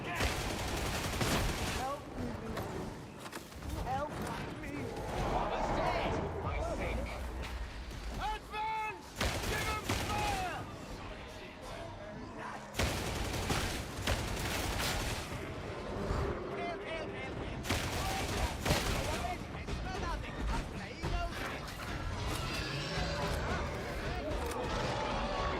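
Video game gunfire in Monster Hunter Freedom Unite, heavy bursts of rapid shots and explosive blasts coming in waves over a long stretch, with game voices and music mixed in.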